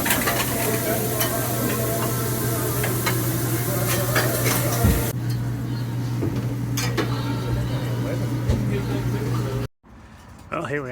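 Burgers with onions fry on a diner grill, a steady loud sizzle with stirring and scraping close by, dishes clattering and people talking, with a low hum under it before the sound cuts off near the end.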